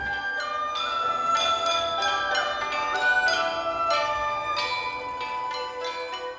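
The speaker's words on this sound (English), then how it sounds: "Cultural Chinese instruments were played," Bells and traditional Chinese instruments ring out at a small concert inside a tower, a steady run of bright struck tones following one another in a melodic rhythm, resonant and close, with no talking.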